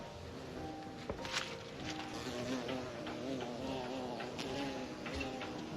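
A carpenter bee buzzes in a springtime garden, a faint continuous drone amid outdoor ambience with rustling and a few light knocks, no talk.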